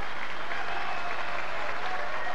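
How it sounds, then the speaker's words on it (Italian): Audience at a film festival award ceremony applauding the jury's verdict for the Golden Lion, a steady dense wash of clapping with some crowd murmur, heard at moderate distance throughout. "il pubblico accoglie con applausi e dissensi il verdetto della giuria."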